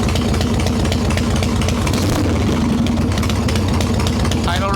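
Harley-Davidson Evo Softail engine idling steadily before it is fully warmed up, a low rumbling throb that runs continuously and close throughout with an even, unbroken rhythm.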